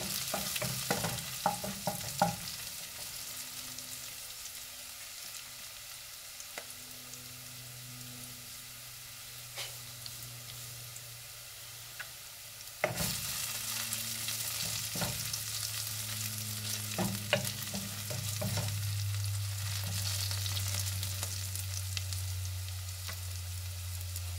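Cumin seeds fry lightly in a pan for black lentil (urad) dal, a steady low sizzle with occasional utensil taps that swells into a fuller, louder hiss partway through.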